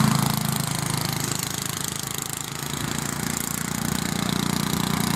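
An old ride-on lawn mower tractor engine drones steadily while cutting long grass, a continuous close mechanical rumble with a rough, rattling texture and no voices.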